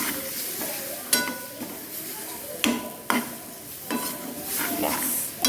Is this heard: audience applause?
no